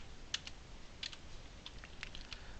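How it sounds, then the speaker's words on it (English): Typing on a computer keyboard while coding a MATLAB program, with quiet scattered key clicks in short bursts over a low steady background hum, no voices. "Again, there's a lot of typing here"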